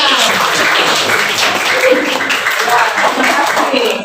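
A room of students claps together in class, a dense continuous patter of applause, loud and close, with voices mixed in.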